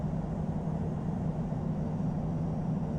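A Qatar Cargo Boeing 777-200F taxiing at Changi Airport in Infinite Flight gives off a steady, low jet-engine rumble and whine that holds level throughout, with no talking.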